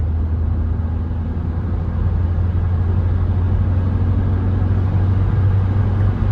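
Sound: Ford Tourneo Courier car driving on the road

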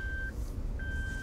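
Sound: Suzuki Jimny rear seatbelt alarm beeping

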